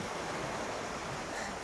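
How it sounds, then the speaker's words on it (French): Sea waves wash in on the beach at La Grande Motte as a steady, broad surf roar with some wind noise, close and continuous, with no voices. "On entend bien les vagues"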